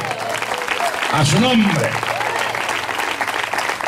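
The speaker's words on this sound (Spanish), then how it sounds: "Dele fuerte aplauso al Señor." A church congregation applauds, with steady clapping running under a preacher's loud voice through the whole stretch.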